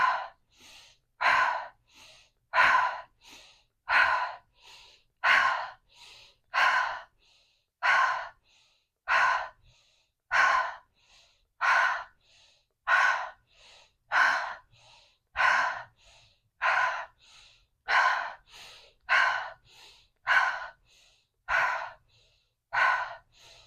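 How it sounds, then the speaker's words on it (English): Slow, steady pranayama breathing during a chakra practice, with about seventeen full inhale-exhale cycles in a regular rhythm. Each breath is close and clear, with short pauses between, and no talking. "Inhale."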